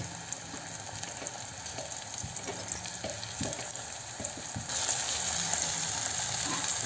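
Tomato and garlic cloves fry in a pan with onion, giving a steady close sizzle with occasional stirring clicks, growing louder and brighter toward the end.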